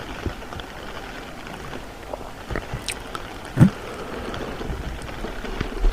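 Rain falling in a garden, a soft, steady hiss of drops at low volume with occasional louder individual splashes and taps, no voices.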